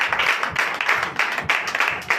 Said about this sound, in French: Donnez encore de vive acclamation à Jésus.